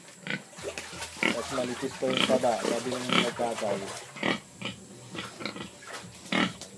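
Pig on a Bulacan farm giving short, close grunts scattered through the stretch, mixed in with a person talking.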